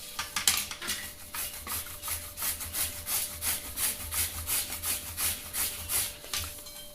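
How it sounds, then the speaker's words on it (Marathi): Peeled raw green mango is grated by hand with a rhythmic back-and-forth scraping, about two strokes per second, close and steady with a faint constant hum underneath. "आता मी याला किसणार आहे।"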